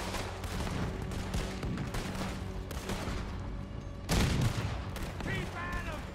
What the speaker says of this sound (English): I'm just constantly trying to shoot.